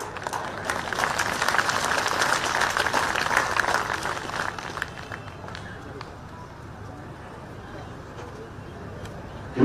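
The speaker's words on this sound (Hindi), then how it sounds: "60 लोग ताली बजा रहे।" A crowd at a rally with a chief minister in Jaisinghpur, Kangra, breaks into a burst of applause, a dense patter of clapping that swells early, then thins and fades under someone speaking into a microphone.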